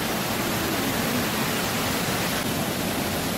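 Steady, loud broadband roar of rushing water at Jatinga waterfall, a continuous dense wash with no breaks and no voices over it.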